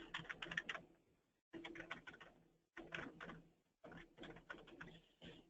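Typing on a computer keyboard at close range, quiet bursts of rapid key clicks separated by short pauses, with no voices.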